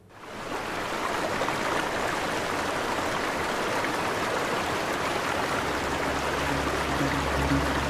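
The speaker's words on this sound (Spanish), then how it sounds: "Las aguas del río Uquica fluyen desde la fría cordillera hacia el canal Beagle" The Uquica river runs from the cold mountain range toward the Beagle Channel, and its flowing water makes a steady, broadband rush that stays loud and constant throughout, with no voices over it.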